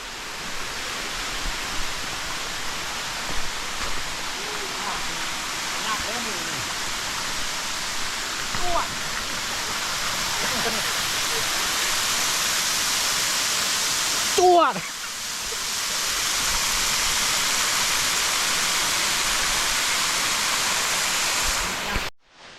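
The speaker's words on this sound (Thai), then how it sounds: "บริเวณนี่คือ คือน้ำตกเพียงดินครับ" The Phiang Din waterfall in Nong Hin district, Loei, pours with a broad, steady roar of falling water. The sound is loud and continuous throughout, with a brief knock partway through.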